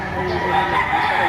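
Rooster crowing close and loud at a gamecock market in Padre Garcia, Batangas, a single drawn-out harsh call layered with other fowl and market bustle.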